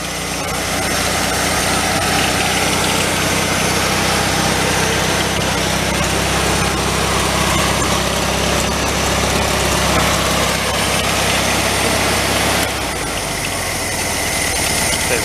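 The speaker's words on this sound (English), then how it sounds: "Right, we'll put it on a fast idle." A 1974 VW Thing engine runs at a fast idle, a steady loud drone that holds unchanged for about twelve seconds. The pitch then drops slightly as the engine settles near the end.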